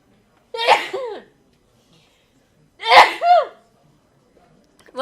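Two loud, close sneezes during a Showdown tournament men's bronze-medal match in Prague, each a sharp burst with a short follow-up, separated by about two seconds of near silence.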